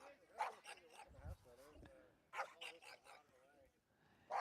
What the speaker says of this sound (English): Excuse Mia, the Robinson's dog behind us. Trying to make some noise here for the Shaker Heights squad.